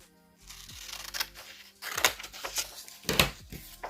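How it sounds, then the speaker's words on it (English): Scissors snipping through the thin cardboard lid of a Kleenex box, a run of close crisp cuts and crinkles, starting soft and turning louder and denser toward the end, with no talk over it. "I'm going to cut that off."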